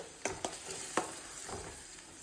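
Spice paste with carrot and beetroot pieces cooks in a pan with a soft, low sizzle, broken by a few sharp scrapes and knocks from stirring.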